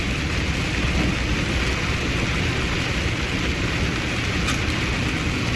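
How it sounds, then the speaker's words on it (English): Steady rain falling over a Tennessee–South Carolina route, a dense continuous hiss that stays loud and even throughout, with no clear thunder rumble standing out. "it's gonna be raining all day."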